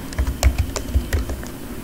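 Keystrokes on a computer keyboard while text is entered in MS Word, a handful of close, clicky taps in an irregular rhythm over a low background hum, with no talking.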